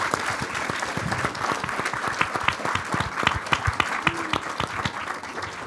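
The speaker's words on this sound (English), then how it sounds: "Alors peut-être une main d'applaudissement pour notre équipe." A crowd claps steadily for a panel team at the close of a live session with students about space, the dense applause filling the whole stretch with a few louder claps near the front.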